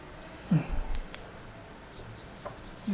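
Marker or chalk writes on a board in a chemistry lesson, with a few short scratchy strokes and taps spread across a quiet room and no talking over them.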